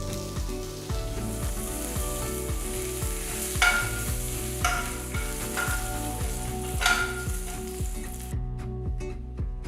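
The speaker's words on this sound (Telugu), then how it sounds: "కొన్ని కరివేపాకులు వేసి వేయించాలి" Mustard seeds, dried red chillies, asafoetida and curry leaves sizzle and crackle steadily in hot sesame oil, with a few sharper pops, all under a continuous rhythmic background tune.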